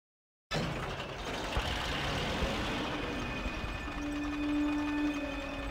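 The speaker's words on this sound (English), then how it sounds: "But our tank soon had engine trouble, and the smoke plume was giving away our position." A T-34 tank engine in Call of Duty: Finest Hour, heard as a steady, loud, low rumbling drone that runs continuously with no talk over it.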